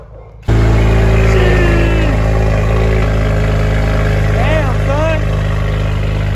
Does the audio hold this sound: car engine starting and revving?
yes